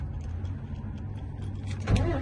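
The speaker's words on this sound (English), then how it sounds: "I'm going to start my truck." Truck engine cranking and catching near the end after a quiet interior stretch, a sudden louder low burst as it fires up close by, no talk.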